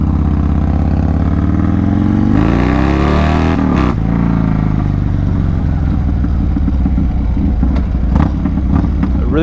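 A motorcycle engine drones loudly and close throughout the ride. It climbs in pitch as it revs up, drops after a shift, then settles into a rough, clattery running note.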